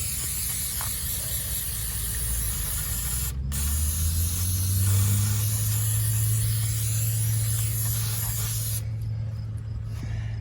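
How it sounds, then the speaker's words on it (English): Aerosol brake cleaner hisses steadily from a can for several seconds in two long sprays, close and loud, with a low hum rising underneath and no talk. "Spray this down with brake clean to let it dry."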